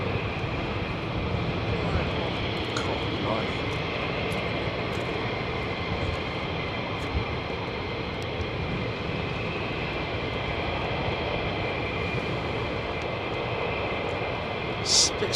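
Fighter jets at RAF Lakenheath roar steadily, a broad, continuous engine rumble holding for the whole stretch with little change in level and a brief swell near the end.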